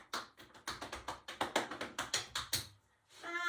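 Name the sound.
hand tapping on the leg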